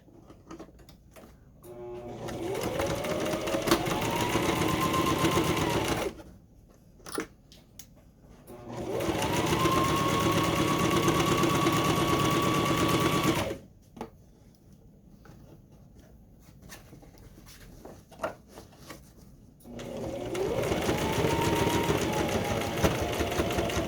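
A sewing machine runs in three long bursts of steady whirring stitching, separated by pauses with small clicks and handling noises.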